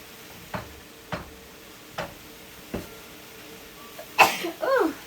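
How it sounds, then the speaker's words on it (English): A single sharp sneeze triggered by pepper bursts out near the end of a kitchen scene during blackened shrimp prep. It follows a few evenly spaced soft knocks and has a brief breathy tail. "Ooh, that pepper made me sneeze."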